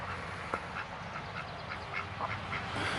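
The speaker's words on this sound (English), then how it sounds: "Oh, and there's a quack." A duck on a farm quacks repeatedly in a steady run of short calls, heard at moderate distance over constant outdoor background noise.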